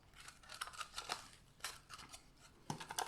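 Scissors snip through a knotted cord while a bottle-bottom pouch is being made: a handful of quiet, close, crisp cuts in an irregular rhythm, with no voices.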